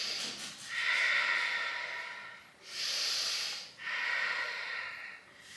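Strong breathing during a Pilates mat exercise: three long, forceful breaths through the nose or mouth, heard close and loud with a rushing, hissing quality.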